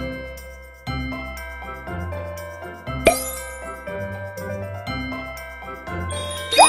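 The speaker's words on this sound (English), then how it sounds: "Bells starts with the letter B." Bells jingle in bright, ringing strikes, a series of clear tinkling hits spaced about a second apart, each note sustained and fading, with a louder shimmering flourish near the end and no talk.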